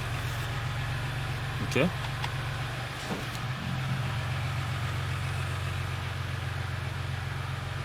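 A Dodge Ram pickup truck's engine runs steadily with a low, constant drone while the truck drives, heard up close with a brief spoken word over it.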